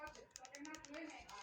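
Quick clicks from a keyboard or remote come in short bursts, soft and close, under a steady speaking voice.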